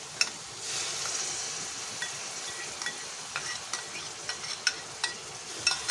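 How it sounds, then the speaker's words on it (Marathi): Tomato paste sautés in a pan for chhole masala, giving a steady, close sizzle and frying hiss, with sharp spoon taps and scrapes growing more frequent toward the end, no talk. "टोमॅटोची पेस्टसुद्धा छान परतून घ्यायची, अगदी तेल सुटेपर्यंत"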